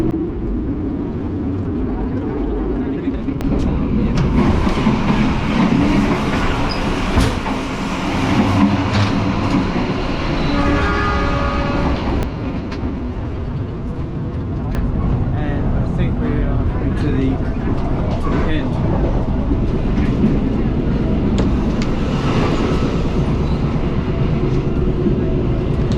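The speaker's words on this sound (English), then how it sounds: "this train is absolutely moving." Inside a moving economy class train between Jakarta and Yogyakarta, a loud steady rumble and rattle of the carriage runs throughout, with people talking over it.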